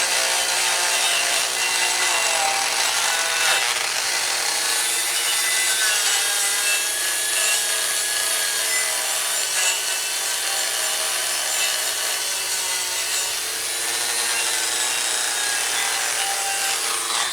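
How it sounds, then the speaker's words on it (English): A Dremel with a wire brush scrubs corrosion off the threads of a Kubota MX5000 LA852 hydraulic cylinder, giving a continuous loud, bright whirring scrape at close range with no talk. "So we'll do the same thing with the Dremel and the wire brush"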